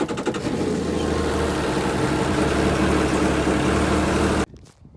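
The engine of a 2019 Yamaha WaveRunner EX Sport personal watercraft idles with a steady, buzzing rumble, loud and close, then cuts off abruptly near the end.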